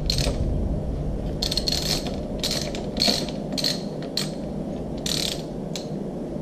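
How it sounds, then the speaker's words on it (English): Steady clicking of a ratchet with an extension tightening a bicycle headset during a bike build, a fast, even run of pawl clicks with brighter bursts as it spins, close up against a constant background hum and no talking. "Then you just get the extension, put it in there, tighten it up."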